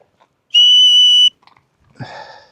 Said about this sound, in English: Do you want to hear the whistle?